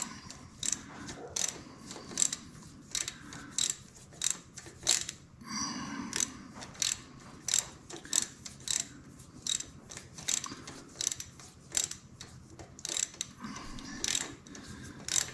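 Ratchet wrench tightening the top motor mount bolts on a 2001 Harley Sportster, producing rapid clicking bursts in a steady repeating rhythm, close and fairly quiet, with no talking.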